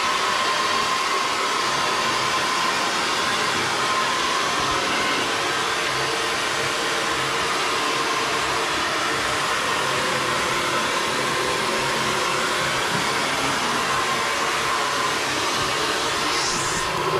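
A hair dryer blows steadily on a freshly washed dog, a loud, continuous, even whoosh held close by for the whole stretch without pause.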